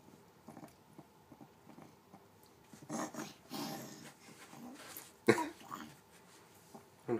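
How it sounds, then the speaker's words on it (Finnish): A Bengal cat gives a few short, close coughs in a quiet home room, with one sharper hack standing out among softer throaty sounds. "No, yskis vähän."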